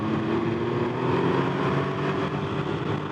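Can-Am Ryker three-wheeler pulling hard out of a corner, its engine droning loud and steady with rising rev harmonics and wind rush throughout.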